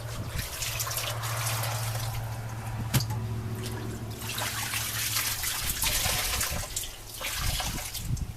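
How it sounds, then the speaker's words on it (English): Wet laundry being wrung out by hand at an off-grid washing setup, with steady splashing and trickling water that rises in bursts as the cloth is twisted. A low hum runs underneath and no one speaks. "I can wring a bunch at one time"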